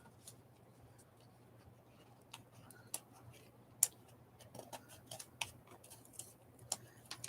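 Scissors snipping through a worn cardboard corner, a scattered series of sharp little clicks and cuts in irregular rhythm, close and fairly quiet over a faint steady hum.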